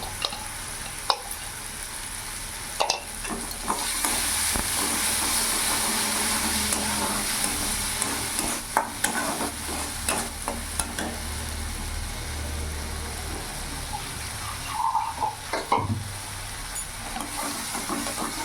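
Spice paste stirred and fried in a pan while cooking a Bengali bata fish curry, giving a steady broadband sizzle with scraping stirring strokes and occasional clinks, close and moderately loud, with no talking.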